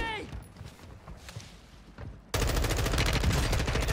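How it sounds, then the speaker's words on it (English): Gunfire in Modern Warfare 2 with an M4 loadout on the Vondel map: after a quieter stretch with scattered game noises, loud continuous rapid automatic fire bursts in abruptly and keeps going to the end. "Ah, stop shooting"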